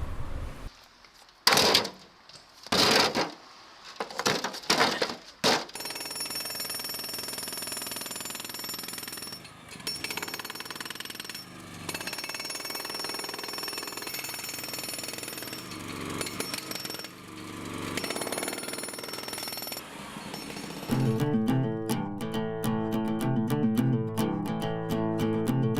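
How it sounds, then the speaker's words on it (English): A hydraulic breaker gun, driven by a four-stroke engine pack pumping oil to a piston, hammers close and loud while breaking up paving, in choppy bursts at first, then long continuous rattling runs, ending with a steadier droning engine tone. "it's a 4-stroke engine which pumps hydraulic oil to a gun which has got a piston in it"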